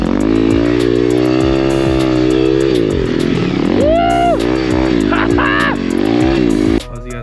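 An Apollo RFZ dirt bike spins donuts in slippery mud, its engine roaring loud and close with steady revving that rises and falls through repeated throttle bursts, a brief whoop of voice near the end.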